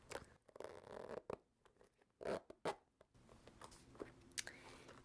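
A quiet inside zipper on a leather bootie being drawn in short pulls, with soft rasping and scraping bursts against a faint background hiss.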